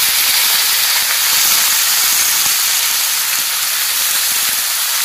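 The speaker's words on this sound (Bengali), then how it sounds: "বন্ধুরা, আগে আমরা দিয়ে দিলাম এখানে গিলা" Chicken gizzards frying in mustard oil with cumin and dry chilies in a kadai, giving off a loud, unbroken hissing sizzle up close that stays level the whole time with no talking.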